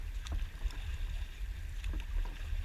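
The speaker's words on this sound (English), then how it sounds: "We're paddling together." A dragon boat crew paddles together on open water, faint splashes and paddle strokes over a low, steady rumble of wind and water.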